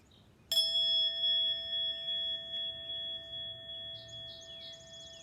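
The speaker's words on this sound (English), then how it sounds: "As we listen to the sound of the bell" A single bell is struck once and rings out with a long, clear, slowly fading tone, alone in a quiet space, with faint bird chirps near the end.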